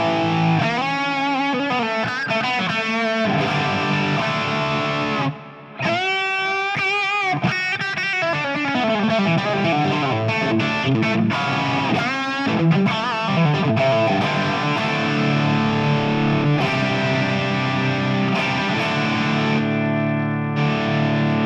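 Heavily distorted electric guitar through a Fractal preset with a Compulsion Distortion LP drive plays chords and melodic runs continuously, loud and saturated, with a brief drop near the start before the riffing resumes.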